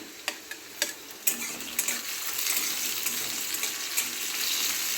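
Chopped green chillies drop into masala frying in oil for masala dosa filling, a few sharp taps of a spoon followed by a rising steady sizzle, close and without talk.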